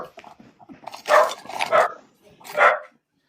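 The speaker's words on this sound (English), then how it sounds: "That's my dog." A dog barks three times up close, short sharp barks with brief gaps between them and softer whimpering sounds before, with no talking.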